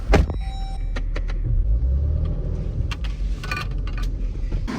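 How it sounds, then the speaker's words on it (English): A Dodge Durango being pulled forward in a repair shop, low engine rumble and rolling drone, close and steady, with a few clicks and knocks over it. "we're gonna pull this thing forward so that they can jack it up"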